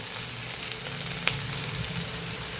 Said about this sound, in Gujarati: મરચાંની ઉપરની સ્કીનનો કલર ફરી જાય ને ત્યાં સુધી સરસ આપણે સાતળી લેવાના છે